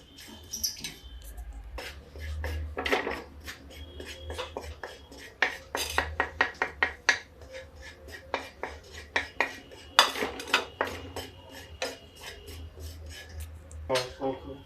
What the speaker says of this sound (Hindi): इसको इमाम दस्ते में हम थोड़ा सा दरदरा सा कुचल लेंगे